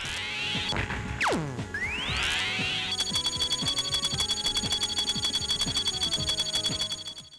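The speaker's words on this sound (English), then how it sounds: "some sound effects, though the missile sound is a bit chunky to say the least" Chiptune-style missile effects from the Game Boy Advance game Viewpoint: a descending laser-like sweep and rising whoosh, then a steady, buzzy, harsh tone with rapid repeating bleeps, loud and alone.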